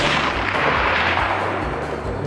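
A single rifle shot fired at a target about 340 yards away on a mountain booms loudly and rolls into a long, dense echo that fills the whole stretch without any voices.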